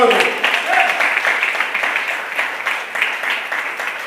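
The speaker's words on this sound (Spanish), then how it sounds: "Denle un fuerte aplauso al Señor" A church congregation applauds with dense, sustained clapping, a steady roar of hands continuing throughout at fairly close range.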